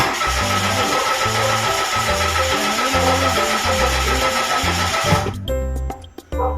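A Mitsubishi Mirage G4 with a no-start fault and a B1201 fuel information code cranks for about five seconds in a loud, rhythmic whirring chug that never catches, then cuts off.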